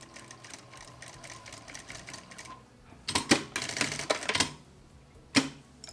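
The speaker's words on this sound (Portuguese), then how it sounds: "vou juntar e vou dar uns pontinhos à máquina prendendo" A sewing machine stitches fabric for a bucket bag in rapid rhythmic bursts, first a steady run of quick clicks, then a few louder, harsher spurts and a final short burst, close up with no talking.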